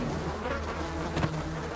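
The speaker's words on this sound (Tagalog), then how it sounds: "kaso puro langaw naririnig ko, pare" Flies buzz steadily and close in the Filipino horror video game The Dreaded Hut, a dense continuous drone with no speech.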